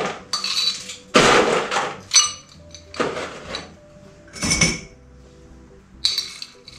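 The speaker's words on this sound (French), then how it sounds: "On rajoute la moitié de la glace." Half a measure of ice cubes tipped into a shaker for a ginger cognac cocktail, giving several loud clattering bursts of cubes rattling against metal, separated by short pauses, close up with no talk.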